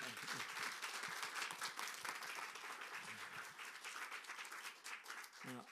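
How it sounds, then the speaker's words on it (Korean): A church congregation applauds to welcome a pastor at a revival meeting in Jeonbuk. The clapping is dense and steady, a little distant and soft, and runs unbroken for about six seconds. "큰 박수로 환영해 주시기 바랍니다."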